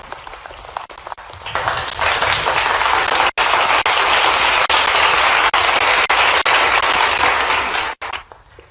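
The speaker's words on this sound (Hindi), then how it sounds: "चलिए सब जोरदार ताली बजाइए इंदौर के लिए।" An audience at a live Hindi event in Indore bursts into loud, sustained applause that swells after a couple of seconds and holds strong, with a few brief breaks, before fading near the end.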